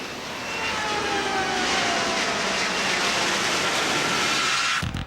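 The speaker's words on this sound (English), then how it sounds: "let's cut to the chase and see the Joint Force Harrier in action" Joint Force Harrier jets roaring through a flypast at an airshow, a loud continuous jet rumble that swells and holds steady for several seconds before cutting off abruptly near the end.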